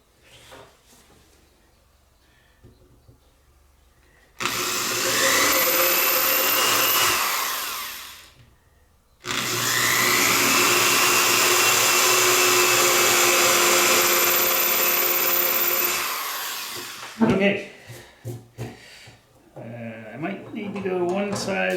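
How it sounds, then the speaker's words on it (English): Two long stretches of loud, steady power-drill whine drilling into a wooden G&L Skyhawk guitar neck, each running several seconds with a short pause between, followed by clattering handling noises. "you can get the drill bit down, drill down a little better."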